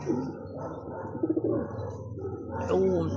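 Racing pigeons returning home from training give soft coos and wingy flutters close by, with someone talking over them in a warm outdoor loft.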